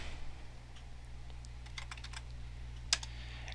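Keys on a computer keyboard clack in a quick, faint sequence of light taps while commands are entered, with a low steady hum underneath and one sharper keystroke near the end.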